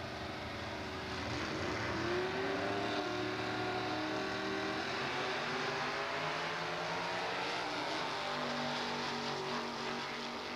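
A '55 Chevy shoebox and a Chevrolet Chevelle Super Sport run side by side at a drag strip, their engines making a sustained loud roar that carries from mid-distance and holds steady.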